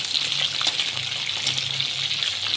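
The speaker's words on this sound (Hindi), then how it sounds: "आपने इसको डीप फ्राई करना है।" Chicken deep frying in oil over low heat gives a steady, close, dense sizzle that holds without a break, with no voices.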